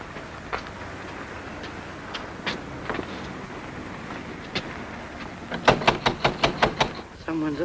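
Knocking on a door as a radio drama sound effect: a quick series of about six sharp, close raps near the end, after quieter scattered taps under faint background.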